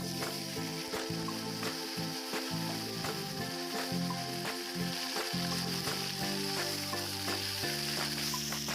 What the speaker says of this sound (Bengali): ভাজা পেঁয়াজ ও লঙ্কার মধ্যে দিয়ে দেব সিদ্ধ করা কাঁচকলা ও আলু